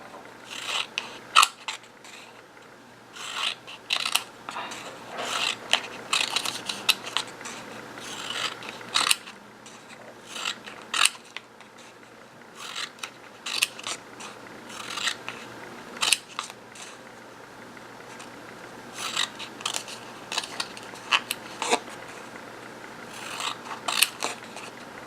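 Scissors snip paper repeatedly while cutting strips for a paper tassel, a long irregular series of crisp close clicks and shearing cuts with brief pauses, no talk.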